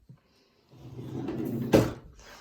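A desk drawer in a home study slides open with a drawn-out rolling rumble, ending in a sharper knock as it stops; close and clear, with no talking.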